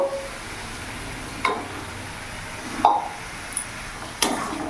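Tomato, onion and whole garam masala paste hitting hot oil for a rohu fish kalia, giving a steady sizzle with a few sharp stirring scrapes and clinks spaced through it.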